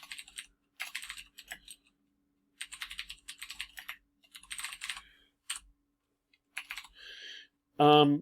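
Typing on a computer keyboard in short rapid bursts of close, crisp key clicks separated by pauses while entering a title and subtitle, with a brief voice at the end.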